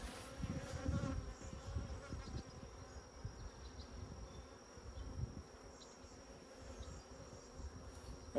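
Honey bees drone around an open hive during queen-cell rearing, a dense steady buzz close by that swells slightly early on and continues throughout without speech.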